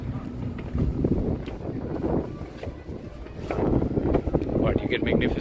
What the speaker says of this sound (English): Ooh, it is windy up here.